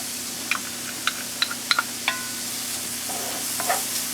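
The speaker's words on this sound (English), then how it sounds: "I'm going to toss our garlic in here" Chopped garlic tossed into a hot pan for creamed spinach sizzles softly under a steady background hum, with scattered sharp clicks and taps of stirring and no talking.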